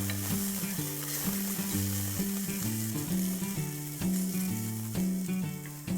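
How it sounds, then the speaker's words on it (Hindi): Chopped onions and two small green chilies fry and are stirred in a pan for a vegetable pulao, giving a continuous, loud, close sizzle with stirring scrapes and no voices. "प्याज को ट्रांसलूसेंट होने तक पकाएंगे।"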